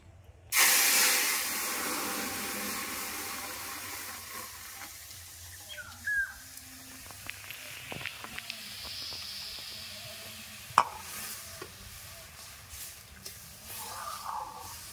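Masoor dal pours into a hot pan and erupts into a loud burst of sizzling and steaming hiss, which then settles into a steady softer fizz with occasional stirring clinks and small pops.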